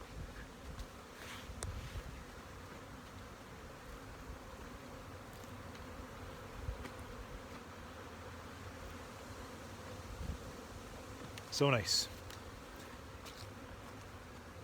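Bees buzz around hives in a yard in November, a soft continuous hum close by with occasional louder passes, and a voice briefly speaks near the end.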